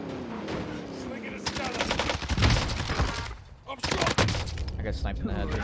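Gunfire in a Warzone match, with sharp rapid shots cracking in dense bursts and a brief lull before another volley, loud and close.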